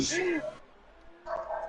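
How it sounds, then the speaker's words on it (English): A female pet dog barking excitedly indoors, two sharp yappy barks with a short pause between them, close and fairly loud. "Sorry about my dog, by the way. She was so excited with it."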